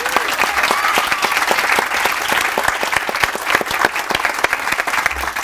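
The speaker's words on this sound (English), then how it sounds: "I first want to take a moment to applaud the seniors and the graduates for their work they've done this year." A large audience claps steadily for graduating seniors at the 2018 Fox Meadow High School graduation ceremony, a dense, continuous wash of applause that holds at an even level throughout with no voices.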